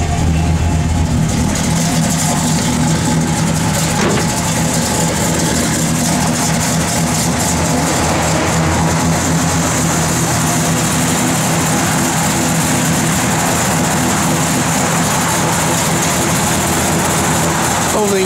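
A 1965 Chevrolet Impala SS engine runs at a steady loud idle, a continuous rumbling drone close by, with a voice talking over it at times.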